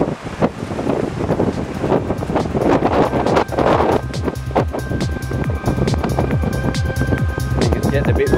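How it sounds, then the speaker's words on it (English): Wind on a cliff top at a cliff jumping contest by the sea, buffeting the microphone in a loud, continuous rumble with gusty surges throughout, and a faint background tone. "I think it's getting a bit windier for a jump here."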